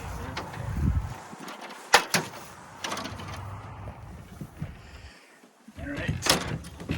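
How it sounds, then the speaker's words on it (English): Shrink wrap covering a 1998 Cobalt 293 boat crinkles and rustles as its zippered door is opened, with sharp plastic snaps and rattles close by and people talking in the background. "I have to climb in through the shrink wrap door here"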